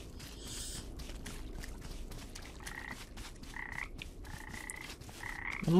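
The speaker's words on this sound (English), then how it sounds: "What's here? Lots of frogs." Frogs in the video game Papo & Yo croak in quick, rhythmic pulsing bursts, repeating steadily over a soft watery ambient background.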